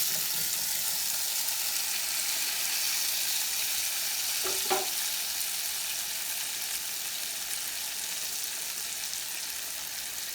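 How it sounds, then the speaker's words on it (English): Diced tomatoes sizzle steadily in a hot pan, a constant close frying hiss with a brief stirring clatter partway through. "Next step, adding 2 diced tomatoes."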